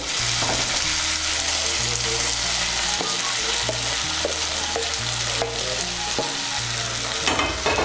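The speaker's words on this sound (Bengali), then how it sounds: "চালগুলোকে মিশিয়ে নেব। মিশিয়ে নিয়েছি।" Pointed gourd and fried rice grains are stirred in spices in a hot pan, with a loud continuous sizzle and rhythmic scraping of the spatula throughout, close and without talk.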